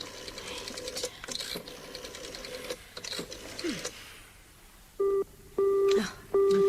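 Rotary telephone dialing clicks and whirs give way to an engaged busy signal of repeated steady tones in a BBC Saturday Night Theatre radio play, the beeps loud and close at the end.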